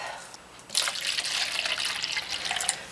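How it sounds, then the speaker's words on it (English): Water splashes and trickles into a pot of black dye for kettle-dyeing yarn, a sudden pour starting after a brief pause and running steadily, close and fairly loud. "I'm going to add a little bit of water into that."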